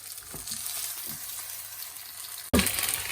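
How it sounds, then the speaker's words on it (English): A thin chilli pancake hits a hot pan and fries with a loud, steady sizzle, rising in a sharp burst partway through. "So when our pan is hot, we add in the pancake."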